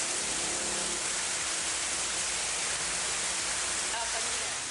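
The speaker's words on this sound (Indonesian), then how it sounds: "Hujan deras disertai angin kencang dan petir melanda seluruh wilayah di Kabupaten Maros," Heavy rain with strong wind and thunder over Maros Regency in South Sulawesi, a dense, steady broadband roar of downpour that stays loud and unbroken throughout.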